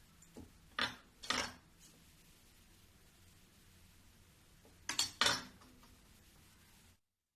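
A knife scrapes and taps against wheat-flour biscuit dough on a board, scoring a design from one corner, in two short bursts near the start and another pair later with quiet between them.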